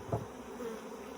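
A close, continuous hum of honeybees swarms around an opened hive during varroa testing, with a brief bump of handling noise near the start.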